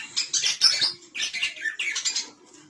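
Pet birds in a breeding setup chirp in quick, busy bursts of high twittering calls, close and fairly loud, with no talking.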